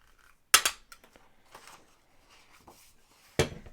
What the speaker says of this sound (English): I'm going to take my 2-inch circle punch and cut into the corner.